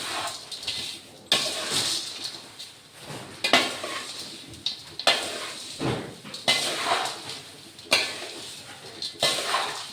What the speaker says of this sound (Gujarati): તો હવે એને મિક્સ કરી લઈશું